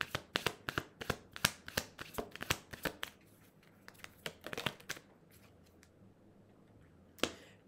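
Cards are shuffled and drawn during a card reading, a quick rapid series of close, crisp riffling snaps for about five seconds, then a pause and one final slap of a card.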